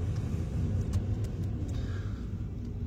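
A Ferrari sedan engine heard as a faint, steady low rumble, like cruising from inside or near the car, with no talking.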